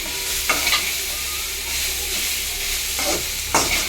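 Chopped banana stem sautéing in a pan, a constant close hiss punctuated by several sharp spatula scrapes and stirs at irregular intervals, with no one speaking.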